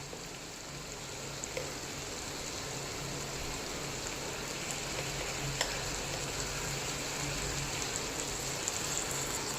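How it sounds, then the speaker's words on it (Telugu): Ginger garlic paste frying in a pan after tomatoes for a vegetable curry, giving a steady, soft sizzle that crackles evenly throughout with a few faint clinks, and no voices. "అల్లం వెల్లుల్లి పేస్ట్ని కూడా పచ్చివాసన పోయేంత వరకు ఎంచుకుందాము"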